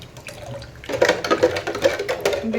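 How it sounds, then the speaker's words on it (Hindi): Water poured from a container into a vessel of sugar water while making a Rooh Afza drink in a Hyderabadi home kitchen, a steady close splashing and gurgling pour that grows louder after a quiet start. "इसमें थोड़ा और पानी डाल के"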